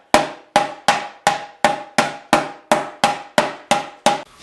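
A hammer beats creases out of a dented stunt motorcycle gas tank, eleven evenly spaced, close, ringing metallic strikes about every 0.4 seconds, each decaying quickly with a faint tone.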